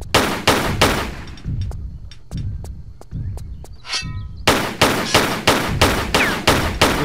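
Gunfire from the Tomb Raider 3 video game rings out in a fast burst of close, loud shots, breaks into a sparse run of scattered thuds and pops, then returns to a rapid steady volley.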